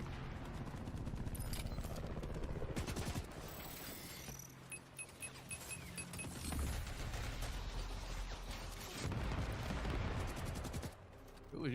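Rapid gunfire and mechanical clatter from a video game, dense bursts of shots and metallic ratcheting fill the mix, with a brief lull midway before the firing resumes, loud and continuous.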